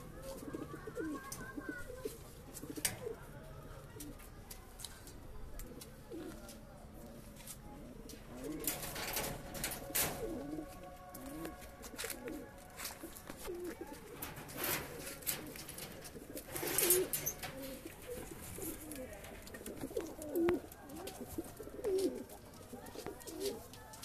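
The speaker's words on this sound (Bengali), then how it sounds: "এবার লক্কা পায়রাগুলোকে একটু দেখিয়ে ছেড়ে দিই" Lakka fantail pigeons in a loft coo in soft, low, repeated rolls, close but quiet, mixed with flutters and rustling and a few sharper knocks, with some faint voices in the background.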